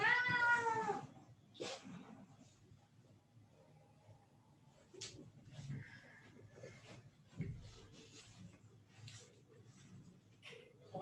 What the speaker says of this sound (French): Mon chat est beaucoup plus audible que les miens.